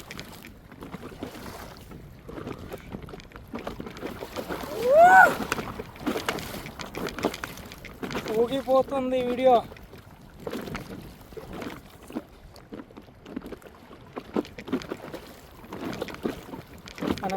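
An old wooden fishing boat rocks on a pond during wind and rain, with water sloshing and creaking under steady wind noise, while a voice speaks briefly in the middle.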